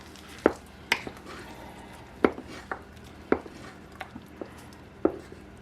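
Vegetables stirred into a gravy filling for a vegetarian pot pie in a pot, with a spoon knocking and scraping against the side in sharp, separate clacks spaced about a second apart over a quiet background, and no talk.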